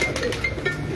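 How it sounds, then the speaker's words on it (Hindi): A Lal Pari pigeon on a rooftop pigeon loft gives a soft, low coo, brief and close, over a faint background hum. "और ये लाल परी कबूतर"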